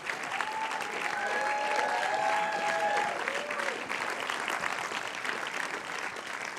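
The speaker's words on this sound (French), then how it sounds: "Vous les applaudir chaleureusement" Warm, sustained applause from a cinema audience at a film festival screening, dense and steady throughout, with a few faint voices and cheers rising above the clapping.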